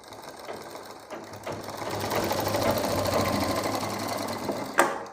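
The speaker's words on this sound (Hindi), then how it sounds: "तो इन प्लेटों को हम इस तरीके से सिलाई से अटैच कर देंगे।" A sewing machine stitches box pleats on a salwar, starting with a few clicks and then running in a steady, close whir that builds and ends with a sharp click.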